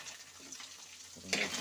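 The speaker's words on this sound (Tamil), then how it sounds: "சால்ட் போட்டு கொஞ்சம் மிக்ஸ் பண்ணி விட்டுடலாம்." Salt stirred into hot oil in a pan for paneer fried rice, a faint soft sizzle with a single quick scrape near the end.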